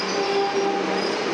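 Horn of a Melbourne Metro train at a station, a short, steady tonal blast held for about a second over the rumble of a slow-moving train.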